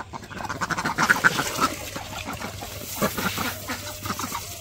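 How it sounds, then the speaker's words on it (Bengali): Village ducks quack while feeding, a busy cluster of nasal calls up close that thins to scattered quacks, moderately loud with no talking. "ওই যে হাঁসে খাইতেছে"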